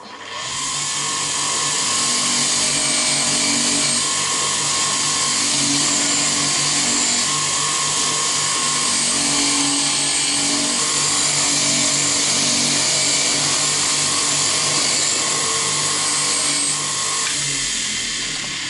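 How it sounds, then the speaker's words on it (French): A loud, continuous whining power tool grinds steadily while cleaning steel car parts in a workshop, with a slightly wavering pitch and no talking. "Nettoyage des pièces en acier."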